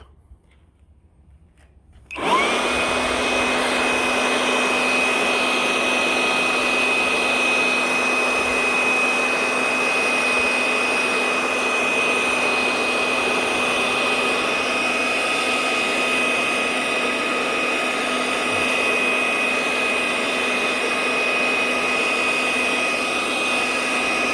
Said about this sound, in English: This is my review on the Kimbo 20 volt lithium ion battery 4 amp hour leaf blower.